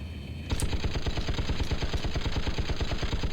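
Rapid, steady automatic gunfire from a fighter craft in the space combat game Wing Commander 1, a dense rhythmic stream of shots starting abruptly after a short lull and running continuously at high volume.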